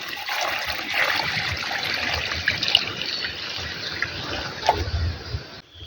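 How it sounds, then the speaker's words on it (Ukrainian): Rooting-solution water pouring steadily onto a garden plant with a soft trickling splash, close by, lasting several seconds before tapering off. "наливаю укорінювачем виливаю водичку"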